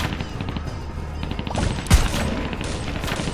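Rapid gunfire in the Borderlands video game, a dense clatter of shots under game music with one louder burst near the middle.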